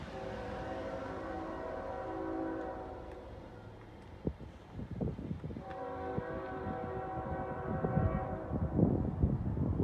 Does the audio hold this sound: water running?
no